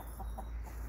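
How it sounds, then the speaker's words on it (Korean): A pet rooster in a black bamboo patch gives a few short, soft clucks as a warning call to its hens, close by and fairly quiet over steady outdoor background noise. "경계하면서 조심해라 조심해라 암탉한테 신호를 보냅니다"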